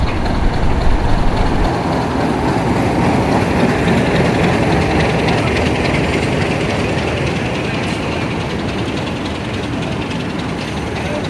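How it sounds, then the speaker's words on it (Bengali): A train engine idles at Lalmonirhat railway station in Bangladesh, a steady, loud, close diesel rumble and hum that barely changes, with station noise mixed in. "এর পাশে আছে ট্রেন"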